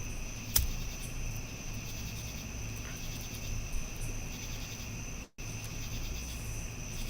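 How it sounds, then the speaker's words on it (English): Steady cricket chirping fills the background at a campground at night, a continuous high trilling with a faint low hum underneath and no voices. "all we hear are some crickets"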